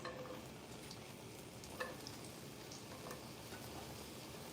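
Onions and peppers fry quietly in a pan for taco filling, giving a faint, even crackle and hiss with a few soft stirring knocks. No voices are heard.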